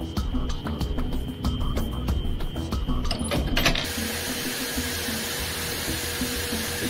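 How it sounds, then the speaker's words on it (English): A Spectrum Industries sorting machine from Mangalore, India runs steadily with rapid mechanical clatter and ticking, then switches abruptly to a broad, continuous rushing hiss, with no voices. "sorting system that was supplied to me by Spectrum in India"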